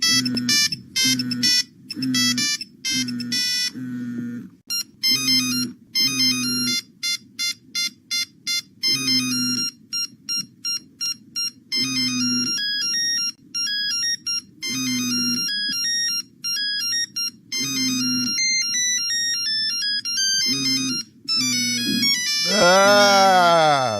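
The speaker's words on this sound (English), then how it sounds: "And of course, those ringtones" A string of old mobile phone ringtones plays on a radio breakfast show, one after another: beeping polyphonic melodies, repeated trill-like ring patterns and a rising electronic sweep at the end, all loud and close with no talking over them.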